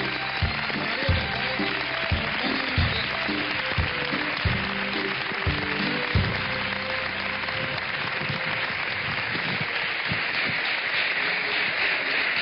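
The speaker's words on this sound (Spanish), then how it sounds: "Un aplauso para el Sevilla, por favor." A studio audience on a Spanish television show claps steadily and densely for about twelve seconds, with music-like tones underneath.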